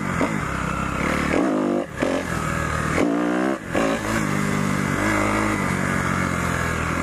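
A motocross dirt bike engine revving and accelerating on a trail ride, loud and close, with sustained throttle and a couple of brief dips as the rider shifts or lets off.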